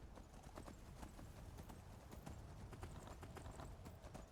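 Steady clip-clop of horse hooves on the ground in the Skyrim video game, a continuous rhythmic trot throughout, moderately loud and heard alone without talk.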